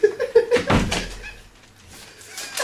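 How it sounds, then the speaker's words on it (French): A door is pushed shut, giving one heavy thud with a brief rattle, preceded by a few quick knocking-like taps and followed by quiet room noise. "On va fermer cette porte."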